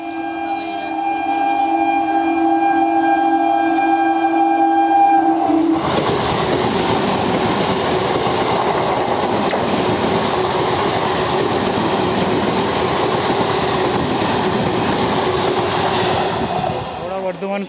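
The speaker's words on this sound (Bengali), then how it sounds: "বর্ধমান সুপার, এটা বর্ধমান থেকে ছাড়ে আর একবারে পুরো হাওড়া গিয়ে থামে, মাঝে কোথাও স্টপেজ নেই।" Bardhaman Super local train, an express run from Bardhaman to Howrah with no stops, passes close by with a loud sustained rumble and clatter of wagons, preceded by a steady horn-like drone, and the roar continues to the end.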